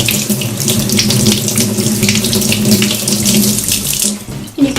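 Kitchen tap pouring a strong, continuous stream of water over makeup brushes in a sink, a loud, close, steady splashing rush that stays unbroken until a small clatter at the very end.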